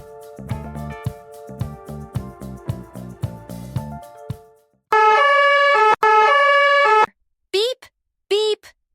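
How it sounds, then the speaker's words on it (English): Toy fire truck siren: a loud electronic wail in two long sustained bursts, then a couple of short rising chirps, following a stretch of rhythmic toy music or beeping. "It's a fire truck."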